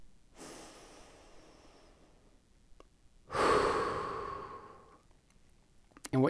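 A person breathes while doing a single-leg Romanian deadlift. A long breath comes first, then a stronger, louder exhale as they pull up, with small clicks in a quiet space and no talking.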